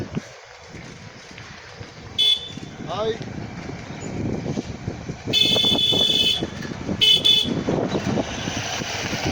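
Several vehicle horns honk in short blasts amid road traffic noise, with people talking in between.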